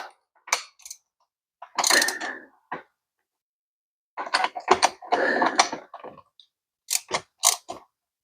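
A ratchet fitted with a large socket loosens the fork bolt on a 2022 Kawasaki KX450 with 49mm forks, in short bursts of close, crisp clicking separated by pauses.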